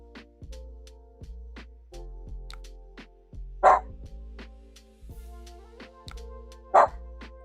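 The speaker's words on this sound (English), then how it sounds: "barking at the dog in the hall" A pet dog indoors gives two sharp, loud barks several seconds apart, aimed at another dog in the hall, over quiet background sounds with no talk.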